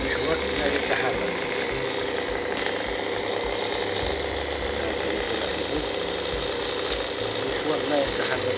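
A faulty Bosch dough mixer hums with its motor running while the shaft stays still, a steady close mechanical drone with faint rattling and knocking throughout.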